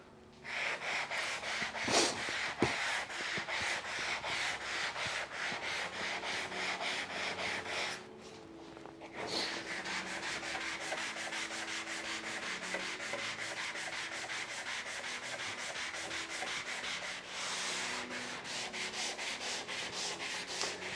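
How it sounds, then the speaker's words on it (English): Sandpaper rubbing back and forth over the wooden boards of a door under restoration, a steady close scratchy rasp in quick repeated strokes that pauses briefly midway before resuming, with no talk. "just sanding boards on the door"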